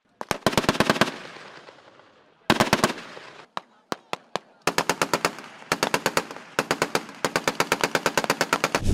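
Military gunfire during an Armed Forces of the Philippines live-fire exercise: rapid bursts of sharp automatic shots, loud and close, broken by short pauses and a few single cracks before more sustained volleys.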